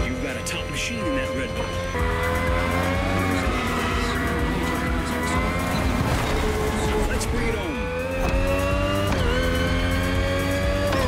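A racing car in The Crew Motorfest half-spins, its tires skidding and squealing over a steady, loud engine drone that runs throughout, with pitch swings as the car slides and recovers. A voice talks over it.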